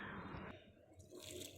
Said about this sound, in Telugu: ఒక చిన్న గ్లాస్ వాటర్ కూడా పోసి